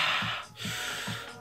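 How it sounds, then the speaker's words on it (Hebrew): Breathy gasps and snorting inhales are layered into a song as a rhythmic effect, about three close, heavy breaths over a sustained synth backing. "נראה לי נוסיף נשימות שיהיה גוון קצת פרוורטי ומטריד בשיר"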